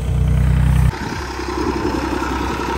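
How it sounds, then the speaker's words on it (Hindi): A tractor engine runs unattended on a farm near a threshing area. A loud, steady low hum in the first second shifts abruptly into a rougher, continuous clattering rumble that carries on alone. "ट्रैक्टर को देखो अकेला चल रहा है,"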